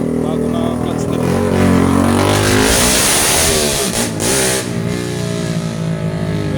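A motorcycle engine revs loudly up and down nearby, its pitch rising and falling as the throttle is opened and released.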